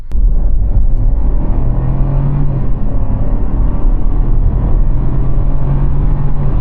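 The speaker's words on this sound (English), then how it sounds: "at the light, we're just going to go 0 to 60 real quick and just see how fast it is" A 2026 Chevrolet Trailblazer SUV pulls away from a city light, its engine droning steadily from inside the cabin with a low rumble and rising tonal hum as it gathers speed, with no one talking.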